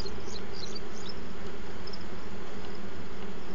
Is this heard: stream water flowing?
no